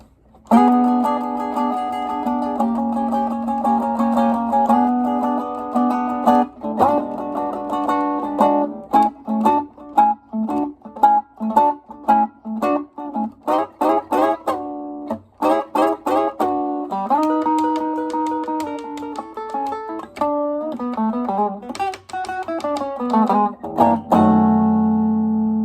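Electric guitar works through the second 12 bars of a Chicago blues, steady rhythmic chords giving way to quick single-note licks and bends, played alone and up close.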